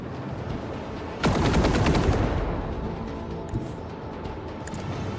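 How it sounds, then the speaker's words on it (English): Torpedo strike in the Rogue Trader space combat game: a sudden loud burst of rapid booming detonations rolls for about a second, then fades into a low rumbling ambient drone. "Take out the torpedoes."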